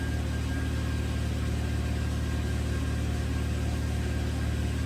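A 2009 Land Rover LR2 engine idles steadily at close range, a constant low hum with a faint high whine above it and no voices.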